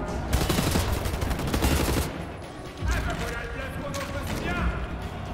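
Burst gunfire in the first-person shooter Wolfenstein: The New Order, dense rapid rattling volleys in repeated bursts with brief lulls, loud and close, while someone talks over it.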